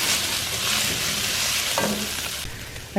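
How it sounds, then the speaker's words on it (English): Ground beef fries loudly in a pan as basil and oregano are stirred in, a dense close sizzle with scraping utensil movements and a brief clack near the end. "So I'm going to stir in the basil and the oregano."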